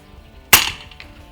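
An FX Dreamline Classic airgun fires a single sharp, close shot during pest control, a crisp snap that fades quickly against a quiet outdoor background.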